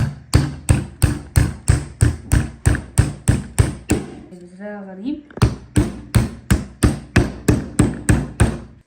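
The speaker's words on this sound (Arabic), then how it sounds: "يلا بينا نقطعها نصين. الشاكوش ده هيتعب معانا النهارده." A hammer strikes a custard apple in a fast, steady series of sharp, close thuds. A brief spoken remark pauses the blows midway before the rhythmic pounding resumes.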